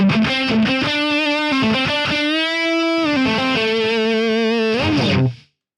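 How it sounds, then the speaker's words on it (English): Heavily distorted electric guitar through a distortion pedal model in Amplitube 5 amp-sim software, loud, sustained chords and single notes with harsh, buzzy saturation and some hiss, playing continuously before cutting off abruptly near the end. "We have the distortion here. Let's hear how that sounds."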